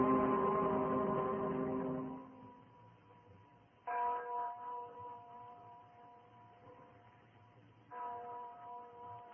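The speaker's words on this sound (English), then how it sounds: "Do you hear that bell, Miranda?" A bell in an old time radio drama tolls three times at slow, even intervals, each ring decaying gently in thin, band-limited broadcast sound.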